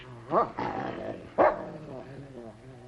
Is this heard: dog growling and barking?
yes